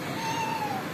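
A house cat, mother to a fresh litter of five kittens, gives a single drawn-out, fairly clear meow close by over a low background hum.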